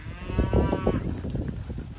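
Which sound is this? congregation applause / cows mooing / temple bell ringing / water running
cows mooing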